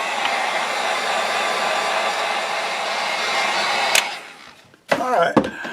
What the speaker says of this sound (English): let's get the heat gun, we'll dry it off.